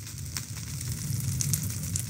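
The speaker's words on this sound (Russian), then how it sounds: "это у нас вечный огонь" A Minecraft fire block burns as an eternal flame at a war memorial, giving a steady low crackle with faint scattered pops, close and moderately loud, with no talking.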